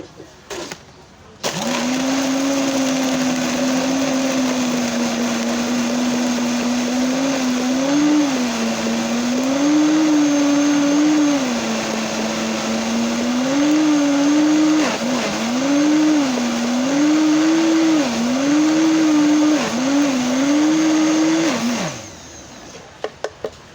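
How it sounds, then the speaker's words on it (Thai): A blender at top speed crushes a heaped 22-ounce cup of small ice cubes for a passion fruit smoothie, a loud steady whine lasting about twenty seconds with repeated pitch dips as the load shifts, then spinning down. "เครื่องปั่นไปที่เบอร์แรงสุดนะคะ จะได้ปั่นละเอียดแล้วก็ปั่นไวนะคะ"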